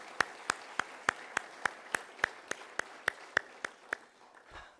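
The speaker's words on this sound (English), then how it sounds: "Let's give them a round of applause for everything that they do." At a city State of the City address in Menifee, applause for chamber staff comes through as crisp, evenly spaced claps close by, about fourteen in a steady rhythm, ending with a soft thump.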